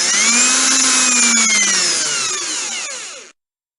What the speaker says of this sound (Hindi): अब इन टुकड़ों में होल करने के लिए मैं ड्रिल का यूज़ करूँगा।